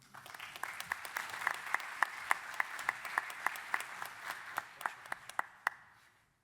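A lecture audience applauds to welcome a neurosurgery speaker, producing steady, moderately distant clapping with sharper individual claps that gradually thin out and stop.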